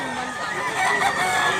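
A rooster crows loudly and close in a drawn-out call with a steady, slightly rising tone, heard at a Cebu chicken sale where someone talks beneath it.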